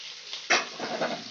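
Chopped onions drop into a hot pan with a sudden crackling burst of sizzle that settles into a steady frying hiss, close and brief.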